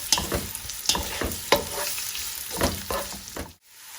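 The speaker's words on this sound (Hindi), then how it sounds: "ऑयल ऐड करने के बाद मैं इसमें ऐड कर रही हूँ अनियंस।" Onions frying in hot oil in a pot, with steady sizzling broken by repeated scrapes and stirs, close and fairly loud, ending abruptly.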